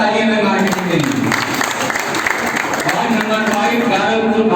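An audience claps together at a marketing success seminar, a dense, steady burst of applause lasting several seconds, loud and close, with a speaker's voice partly audible underneath.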